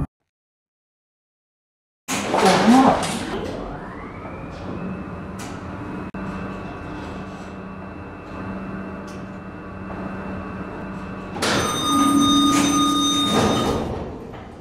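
Otis gen2 lift doors in a Roblox shopping centre game slide with a steady mechanical hum lasting several seconds, then a bright chime and tonal beep sound near the end, loud and clear with no talking.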